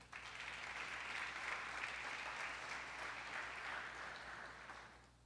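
A church congregation applauds during a sermon on family disagreements: a steady, dense wash of clapping that holds evenly for about five seconds, then tapers at the end, with a low hum underneath.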